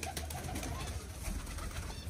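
Pigeons coo softly behind a faint, steady background hiss, with no one speaking.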